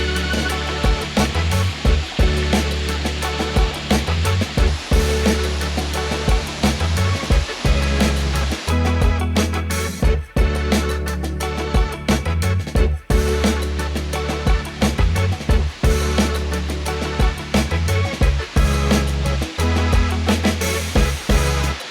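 A waterfall in Bali roars as a loud, constant rush of falling water, broadband and steady throughout with brief dips, no voices.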